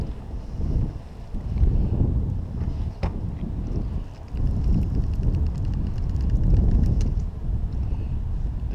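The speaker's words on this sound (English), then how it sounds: "Got a southwest wind this morning, which is always a good thing." Steady southwest wind buffets the microphone on a boat on Lake Norman during a rainy fishing outing, a loud continuous low rumble with gusty swells and no talking.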